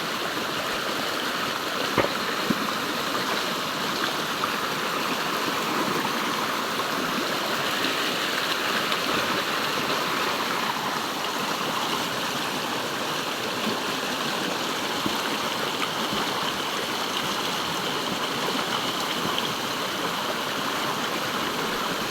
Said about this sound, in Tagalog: Dito sa sapa.